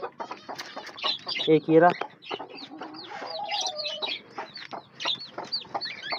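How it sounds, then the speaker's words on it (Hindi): Tiny newly hatched chicks cheep in quick, high repeated peeps close by, with an adult hen clucking among them and a person talking softly over the sounds. "देखें ये इतने इतने से चूजे माशाल्लाह 3 चूजे निकले।"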